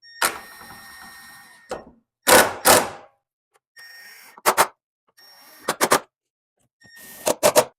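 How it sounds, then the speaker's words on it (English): Screws being driven into the corners of a Finnmark two-person infrared sauna kit, heard as several short bursts of power-driver whirring and clunks separated by pauses, close and fairly loud with no talking. "we're gonna screw them all in so that it's nice and tight."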